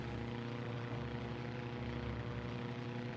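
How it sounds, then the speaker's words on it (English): Fighter planes launching from an I-400 carrier submarine in Heroes of the Pacific, a steady droning propeller-engine hum that holds at an even level throughout without any talk. "That sub's launching fighters."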